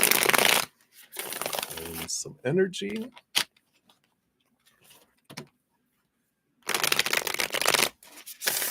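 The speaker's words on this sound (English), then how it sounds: "So let's shuffle up here." Tarot cards riffle and slap together in a quick shuffle between bursts of a woman's speech, with a few soft taps and pauses.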